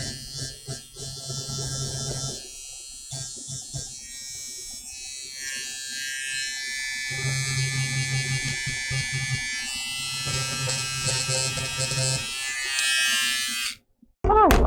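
A Peggy's Stitch Eraser electric stitch remover buzzes steadily and loudly for most of the stretch, its motor tone shifting as it works through tight stitches, with brief pauses and a sudden cut near the end.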